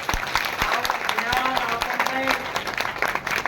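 An audience at a devotional gathering claps loudly and steadily throughout, a dense close applause with a voice speaking over it.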